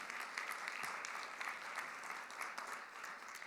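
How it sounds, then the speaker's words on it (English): Sustained applause from an audience, a thick, even wash of clapping that holds steady for several seconds without anyone speaking. "Give her a hand clap of praise, y'all."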